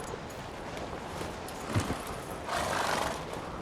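A horse whinnies and its hooves clop in The Witcher 3 video game, with a brief snort partway through and a rougher burst near the end, all fairly faint.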